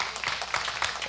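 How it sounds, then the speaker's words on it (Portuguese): Applause from a church congregation during a Portuguese-language service, a short burst of many hands clapping, moderately loud and steady with no talk over it. "Vamos aplaudir ao Senhor"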